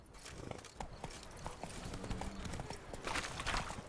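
A horse trots along in The Witcher 3, its hooves clip-clopping in a quick, uneven rhythm, close and clear, over faint ambient game sounds.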